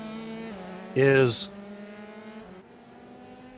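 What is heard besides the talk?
race car driving at Laguna Seca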